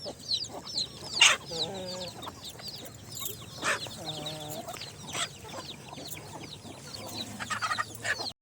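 Chickens cluck repeatedly around a hen with chicks on an organic farm, with short rhythmic clucks and a few brighter peeps and calls, fairly close over a quiet outdoor background.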